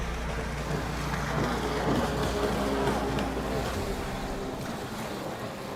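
Personal watercraft racing on open water during a Pro-Am ski 4-stroke world series moto, heard as a steady, loud wash of engine drone, spray and surf with wind buffeting the microphone, no voices.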